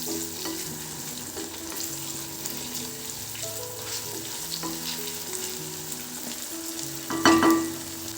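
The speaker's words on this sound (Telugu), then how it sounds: "ఇవి కూడా ఆయిల్లో బాగా వేగాలండి లైట్గా" Green mango pieces fry in hot oil with a steady, soft sizzle and light bubbling, punctuated by a brief clink of a utensil near the end; no talk.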